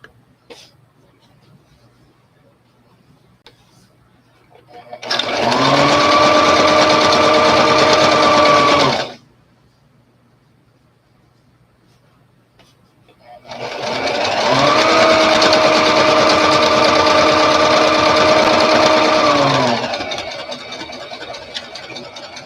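Sewing machine stitching antique-style doll underclothes, running in two steady bursts of about four and six seconds with a quiet pause between, its motor humming evenly and loudly over a faint room background.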